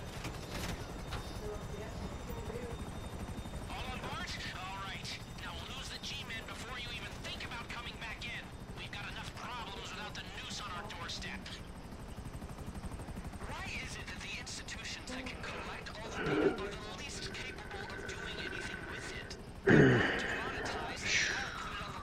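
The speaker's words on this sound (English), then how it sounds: "I'm getting in the chopper now." Helicopter in Grand Theft Auto V, a steady rotor and engine drone running throughout under game sounds and voices, with a couple of sharp louder bursts near the end.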